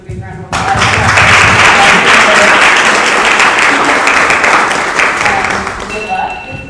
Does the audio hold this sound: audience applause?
yes